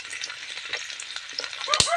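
Garlic frying in oil for a Tamil curry leaf pickle, a steady broadband sizzle with light scraping stirs and a sharper crackle burst near the end, close and alone.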